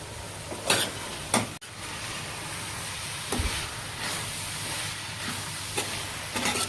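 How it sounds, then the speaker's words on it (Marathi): Cowpea beans stir-frying with chopped coriander and curry leaves sizzle steadily in a pan, with a few sharp stirring scrapes and a sudden clunk early on, close and moderately loud, no talking. "आता मी कोथिंबीर आणि कढीपत्ता कापून घेतलेला आहे ते टाकणार आहे"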